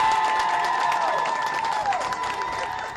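Crowd applause and cheering for a nurse being discharged from a Boston hospital, a steady dense clapping wash with scattered shouts lasting throughout, fairly loud and close.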